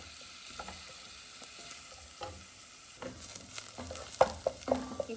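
Onions sautéing in a pan for a roasted coconut chicken curry give a low, steady sizzle with scattered scraping stirs that grow louder and busier toward the end, with no one talking.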